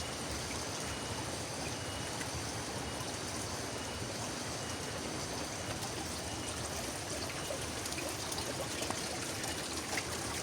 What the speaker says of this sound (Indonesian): Untuk airnya dari pegunungan kawan. Kelihatan jernih banget.